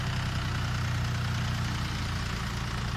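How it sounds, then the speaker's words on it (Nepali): A tractor engine runs steadily on a road in Laxmi Bazar, a loud, continuous low rumble and drone without pause. "अब ट्र्याक्टर चलिरहेछ"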